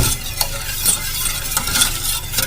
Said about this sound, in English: Back to my stirring.